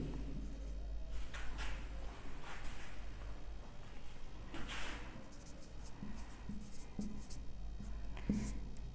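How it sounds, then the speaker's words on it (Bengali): Marker or chalk strokes scratch across a classroom board during a math lesson, coming in short scattered bursts over a steady low hum. "আমি যদি এ পাশটা একটু লিখি।"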